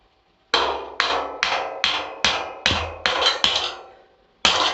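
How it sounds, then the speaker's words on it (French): A hammer drives a wall plug into a wall with nine sharp, evenly spaced blows, a short pause before the last strike, loud and close with no talking. "vous mettez donc votre cheville, vous l'introduisez dedans, et avec un marteau,"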